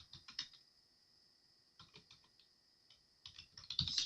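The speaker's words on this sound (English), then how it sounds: "as you're typing that text for that paragraph of the flyer, make sure that you're typing it correctly" Typing on a computer keyboard: short bursts of quick keystrokes separated by quiet pauses, close and fairly soft, with a denser flurry of keys at the end.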